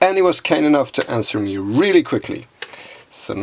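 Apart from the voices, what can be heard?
No distinct noise like a dog, phone or traffic.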